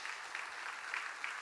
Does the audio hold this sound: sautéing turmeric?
no